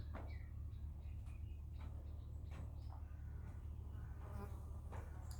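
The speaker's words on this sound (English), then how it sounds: "I can hear a lot of flies buzzing around too." Flies buzz faintly around a white stone burial cave in Israel, thin intermittent whines drifting near and away over a low steady rumble of wind or background noise.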